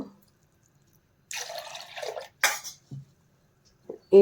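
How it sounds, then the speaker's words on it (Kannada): Two glasses of water poured into a mixer-grinder jar to rinse it while making rice halubai, heard as a couple of short splashing bursts with drips and clinks, separated by quiet gaps in a still kitchen. "ಮಿಕ್ಸಿ ಜಾರೆಲ್ಲ ತೊಳ್ಕೊಳ್ಳೋದಕ್ಕೆ ಎರಡು ಗ್ಲಾಸ್ ನೀರು ಹಾಕ್ಕೋತಾ ಇದ್ದೀನಿ"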